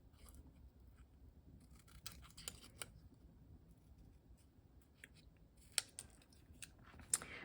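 Scissors trim a small paper ghost cutout, giving faint, sparse snips and light paper rustles up close with long quiet gaps in between.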